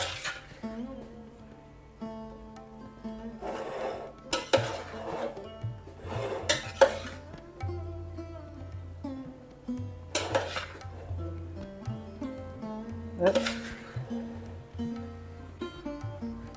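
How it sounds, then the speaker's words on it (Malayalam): A spoon scrapes and clinks against a pot while cooked rice mixed with beans is stirred, giving intermittent scraping bursts with quiet gaps between them and no talking. "ഇളക്കുമ്പോൾ ഒന്ന് സൂക്ഷിക്കണേ."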